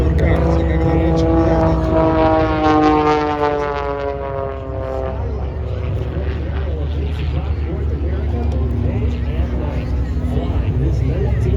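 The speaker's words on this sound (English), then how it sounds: "1956 de Havilland DHC-1, designed originally as a trainer for the RCAF, word-for display of low-level aerobatics" A 1956 de Havilland DHC-1 Super Chipmunk propeller plane flies low-level aerobatics at an Oregon air show, its loud engine drone sweeping down in pitch as it passes close by, then settling into a steady roar with crowd voices mixed in.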